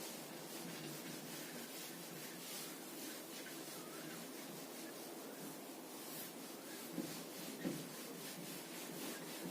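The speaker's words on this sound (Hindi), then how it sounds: "इसको मैं रब कर देता हूं" Duster rubbing across a classroom board to erase written working, a steady scratchy swishing that continues throughout with a couple of sharper knocks near the end.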